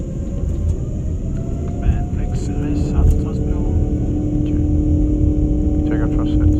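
An Air Greenland Airbus A330neo spools up for its takeoff roll, heard from the cockpit: a loud, steady engine roar and rumble with a rising whine that builds throughout, with brief voice chatter over it.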